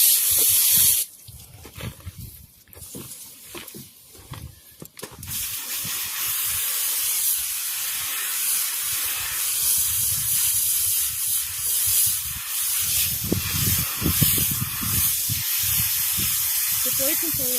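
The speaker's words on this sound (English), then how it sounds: "While flushing, hose down the carpets to remove any dirt or residue" Hose spray washes down the carpets of a weed wiper, a steady loud hiss of water that rises and falls as the stream moves across the surface, with speech running over it.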